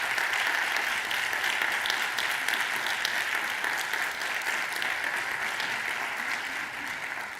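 An audience at a Portuguese forum against violence applauds its pair of sign language interpreters at the closing session, a sustained wash of many hands clapping at steady volume from start to finish.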